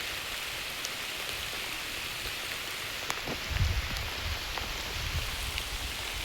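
Heavy rain pours down steadily, a dense even hiss of drops close by on an outdoor farm, with no speech over it.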